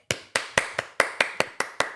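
About nine sharp, evenly spaced claps ring out close and clear, in a steady rhythm with no voices.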